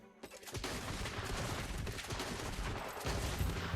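Rapid, dense gunfire from normal bullets in the video game Black Desert, fired with the Deadeye class, comes as a near-continuous close burst of overlapping shots for several seconds.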